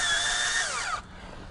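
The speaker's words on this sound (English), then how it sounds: "These self-tapping screws get through the rail no problem and then go right through the vinyl." A power drill drives self-tapping screws through a sliding door rail into vinyl, a loud steady whine that drops in pitch as the screw bites, then cuts off, leaving quiet room noise.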